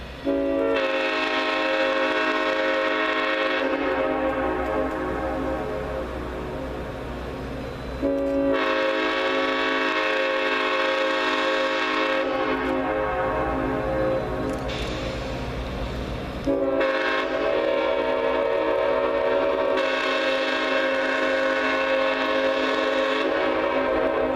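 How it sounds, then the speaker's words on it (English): The Clinchfield Santa Train's locomotive horn plays Jingle Bells in long, loud sustained chords, with three extended blasts separated by brief breaks, echoing as the train crawls across a tall trestle. "Number 800's engineer played jingle bells on the horn as the train slowly crept across the trestle"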